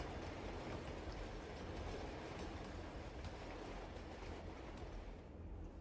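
A train rolls along in the Uncharted 2 video game with a steady, dense rumble and rattle that stays loud and unbroken throughout, with no voices.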